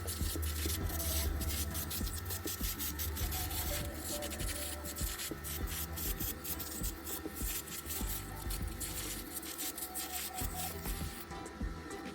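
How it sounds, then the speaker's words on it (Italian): A small brush scrubs the metal fins of a fan coil unit's coil, producing close, continuous scratchy rubbing strokes in a quick irregular rhythm with no voices. "ci aiutiamo sempre con uno spazzolino per pulire al meglio le alette della batteria"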